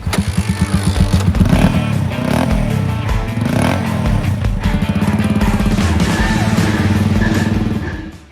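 A 125cc motorcycle engine fitted to a homemade Harley Davidson-style bike runs close by with a loud, chugging idle and uneven revving bursts, clattering throughout with no talking.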